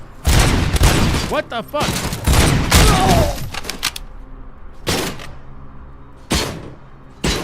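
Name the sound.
gunfire in the video game RoboCop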